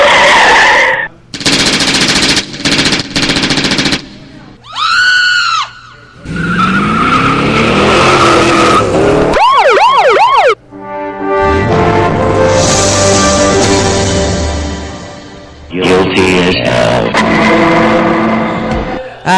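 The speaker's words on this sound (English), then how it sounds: "cue up the police blotter intro" A loud, busy radio-show intro for a police blotter segment, packed with machine-gun bursts, screeching tires, revving race cars and sweeping synthetic sound effects in quick succession.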